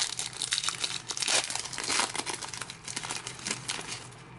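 A foil wrapper on a pack of 2011-12 Certified hockey cards is torn open and crinkled, a loud, close, continuous run of crackling and tearing with no talking.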